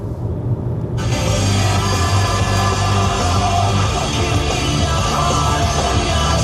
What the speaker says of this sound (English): high-spec subwoofer under the floor, which sounds a bit like this